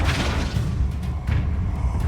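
The Incendio fire spell is cast in Hogwarts Legacy, a deep, loud booming rush of flame that rumbles continuously for about two seconds with no talking.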